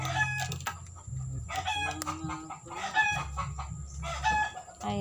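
Chickens cluck and a rooster crows repeatedly, with steady low background noise running underneath throughout.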